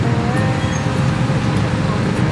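Steady road traffic rumbles along a flooded street in Macabebe, Pampanga during the rainy season, a continuous hum of engines with a voice talking over it.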